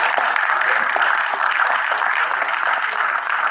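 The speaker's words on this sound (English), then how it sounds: "Let's give him a round of applause." An audience at a Bronx community board committee meeting gives a round of applause, dense and steady clapping from many hands, loud and sustained throughout.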